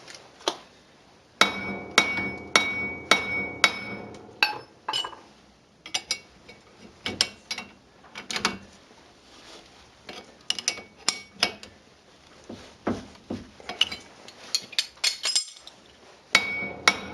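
A small hammer taps on the front spindle bearing of a Chevy Silverado, sharp metallic clinks in irregular clusters and steady runs, close and clear, with no talking.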